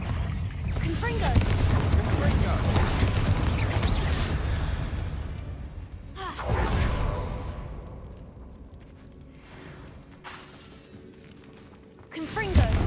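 Confringo fire spell blasts in the Hogwarts Legacy video game, booming explosive bursts that thump and roll out, repeating a few times amid game noise while a voice talks.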